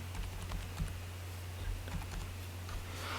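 A computer keyboard being typed on to enter an Aadhaar OTP, heard as faint, quick clicks scattered over a steady low electrical hum, with no voices.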